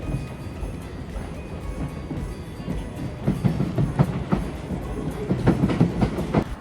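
Train running on the railway beside the Edinburgh Christmas Market: a continuous low rumble with rhythmic wheel clatter that grows louder toward the end, with no talk.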